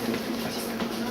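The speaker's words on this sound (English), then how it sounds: "This train is an underground train." An underground U-Bahn train in Hamburg, Germany gives a steady loud rumble with a low hum, a brief continuous passage with no talking.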